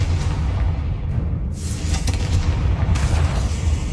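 A Confringo blast spell goes off in Hogwarts Legacy, a heavy continuous rumbling boom with crackling debris, loud and close, with no talking over it.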